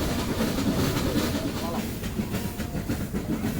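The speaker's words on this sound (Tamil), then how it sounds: "அதில் ஒன்று தாங்க இந்த மேட்டுப்பாளையம் டு ஊட்டி போகிற டாய் ட்ரெயின்." Nilgiri toy train running from Mettupalayam to Ooty behind a steam engine, a steady rumble of rolling wagons with a faint clatter and hiss throughout, under a voice talking.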